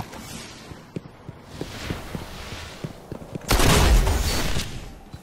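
Shotgun fire in the video game Destiny during close-quarters combat: a string of sharp, fairly quiet shots and clicks, followed by a loud, sustained roaring burst of gunfire near the end.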